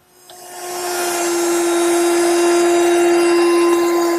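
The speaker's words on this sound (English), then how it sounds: "And I'll do that using my router with a chamfering bit." A woodworking router fitted with a chamfering bit, running on an oak edge for a bathroom vanity, spins up and holds a loud, steady, high-pitched whine close by with no talking.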